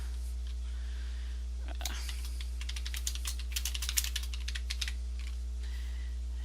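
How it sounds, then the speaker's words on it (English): Typing on a computer keyboard comes as a quick burst of close keystrokes, dense in the middle and thinning toward the end, over a steady low hum. "We'll type in"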